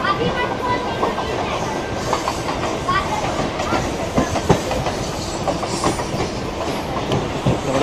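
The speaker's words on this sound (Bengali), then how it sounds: "যেমন আগামী লোকাল ট্রেনগুলো সব সিএসটি, মুম্বাই সিএসটির দিকে যাচ্ছে।" A Mumbai local train bound for CST rumbles steadily with a rolling clatter of wheels and carriages throughout, with a faint murmur of voices mixed into the din.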